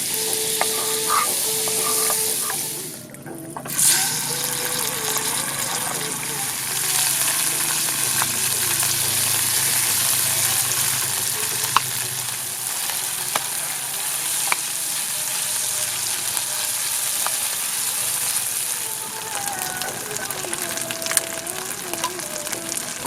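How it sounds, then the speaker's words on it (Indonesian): Corned beef heating in a pan at a family campsite in Bogor, giving a steady, close frying sizzle that runs throughout with occasional stirring scrapes and small pops, no talking. "pancinya dipakai lagi nih buat manasin kornet yang kemudian kita kasih bumbu spaghetti"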